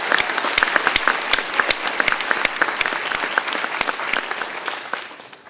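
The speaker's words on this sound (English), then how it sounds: "Let's give them another round of applause." Audience at a fire academy recruit graduation ceremony in Hampton Roads claps loudly, with many sharp individual claps standing out from a continuous, fairly close round of applause.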